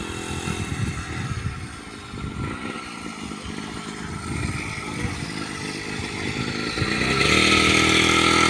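A small motorcycle engine runs steadily with a rattly buzz, rising slightly in pitch and loudness near the end.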